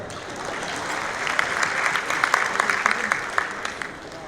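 Weak, scattered applause from a poetry event audience, a few hands clapping with sharp individual claps that rise and fall over several seconds, with faint crowd murmur beneath.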